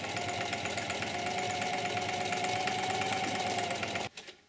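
A sewing machine runs continuously while stitching forward and back along a taupe band on canvas moccasin uppers, a steady close mechanical whir that stops abruptly near the end.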